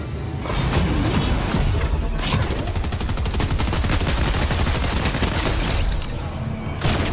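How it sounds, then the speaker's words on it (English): Loud, continuous video game gunfire with rapid automatic bursts and heavy reports packed tightly together, filling nearly the whole stretch before easing briefly near the end. "Who's shooting at me?"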